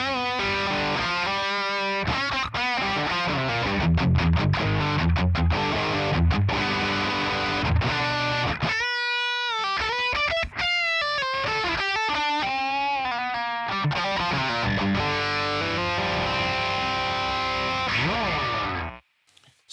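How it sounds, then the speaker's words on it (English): An electric guitar plays through a ToneX pedal with heavy, raw grunge distortion, chords and bends thick with noisy gain, loud and close, ending abruptly. "Grunge sounds and raw distortion with a lot of noise."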